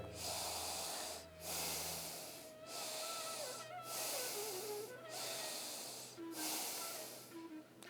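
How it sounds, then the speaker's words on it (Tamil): Slow, deep breathing during a yoga exercise for neck pain, with long airy inhales and exhales that repeat in a steady rhythm several times. The breaths are close and clear, with a faint tonal whistle and no talk. "மூச்சு உள்ளெழுக்கும் போது நல்ல சக்தி வாய்ந்த பிராணக்காற்றை சுவாசிக்கின்றோம்"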